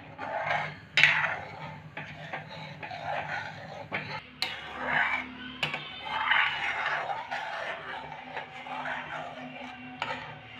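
Bread pieces being stirred into milk in a pot make irregular scraping and knocking clinks of a spoon against metal, moderately close, in uneven bursts with short pauses.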